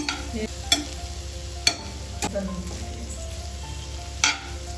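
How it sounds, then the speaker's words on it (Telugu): Curry leaves frying in a pan for vegetable noodles, a steady close sizzle broken by a few sharp spatula clinks and stirring scrapes, with no talking. "కొంచెం కరివేపాకు కూడా వేసుకుందాము కొంచెం ఫ్రై అవ్వండి"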